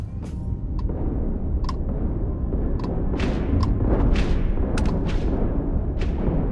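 Ship weapons open fire during a space battle in Starfield, a run of sharp blasts and booming shots arriving irregularly over a dense, steady rumbling bed, loud and continuous throughout.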